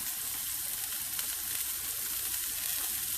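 Corn sautés in a pan with a steady, close, dense sizzle that stays even in level from start to end, with no voices over it.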